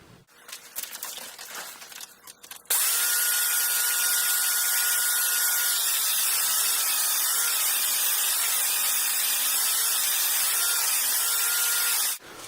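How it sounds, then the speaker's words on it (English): A power grinder shaping the bevels on hedge trimmer knives gives a loud, steady high-pitched whine that runs for about ten seconds and then stops abruptly, after a stretch of quieter handling noise. "Now all I gotta do is file in or grind away the bevels"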